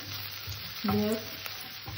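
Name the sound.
beetroot and potatoes frying and being stirred in pan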